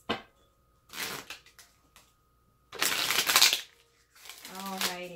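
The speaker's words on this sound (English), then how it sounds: "One more shuffle, please." Tarot cards are shuffled in three separate riffling bursts with short pauses between them, and a brief voice is heard near the end.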